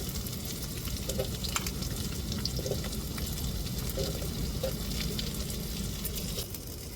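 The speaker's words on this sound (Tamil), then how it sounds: "வெங்காயத்தை வதக்கி விட்டுக்குருவோம் முட்டையோடு சேர்த்து" Onion and egg sauté in a pan for prawn noodles, giving a dense, continuous close sizzle with faint stirring clicks throughout, no voices.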